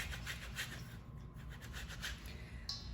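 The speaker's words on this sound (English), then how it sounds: "I'm gonna use a grater and grate some lard in" Lard is grated into a bowl with a kitchen grater while making sour cream pastry, a soft, faint rhythmic rasping of repeated strokes under a low background hum.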